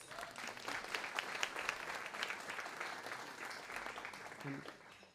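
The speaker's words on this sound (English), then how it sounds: "please give her a round of applause" A crowd at an internal medicine resident graduation ceremony applauds with steady, dense clapping that sounds fairly faint and distant, holding evenly for several seconds.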